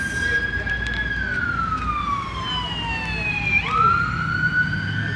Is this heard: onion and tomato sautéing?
no